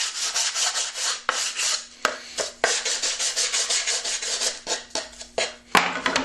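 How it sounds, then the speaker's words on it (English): Hand sanding of a walnut box with 120-grit sandpaper glued to a block, a close, steady series of raspy back-and-forth strokes with a few sharp taps, and no talking. "120 grit sandpaper just glued to a block here"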